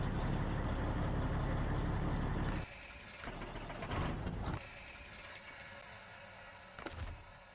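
Heavy off-road truck engine in the SnowRunner game, with a raised snorkel intake, running loud and steady before dropping to a quieter idle with brief hissing bursts like air brakes.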